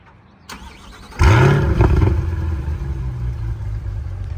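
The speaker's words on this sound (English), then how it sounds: "I'm gonna get out of the car, close the door, and do a little start from the back of the vehicle." Chevrolet C8 Corvette with a performance exhaust, heard from behind the car: a door thuds shut, then the engine fires with a loud starter whir and a rising revving flare before settling into a deep, steady idle.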